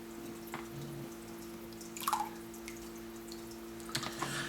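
Faint, irregular water drips and small trickles as soaked hydroponic growing medium drains in a quiet room, a few soft plinks spaced seconds apart over a low steady hum.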